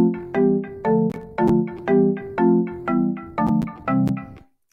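A synthesized melody played in steady notes with chords harmonizing beneath it, a bright electronic tone repeating in an even rhythm.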